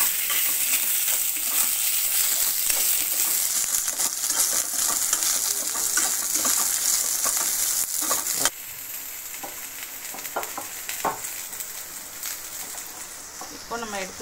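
Vegetables for a Tamil tamarind kuzhambu sauté in a pan after curry leaves have fried, a loud continuous sizzle that drops partway through, with utensils scraping and clinking as they are stirred.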